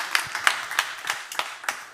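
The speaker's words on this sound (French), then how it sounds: "on les applaudit une dernière fois" A small audience claps at the close of a public talk on molecular gastronomy: a handful of separate, crisp hand claps spaced irregularly over two seconds, fairly quiet in a hushed room.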